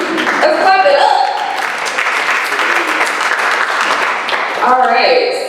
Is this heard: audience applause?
yes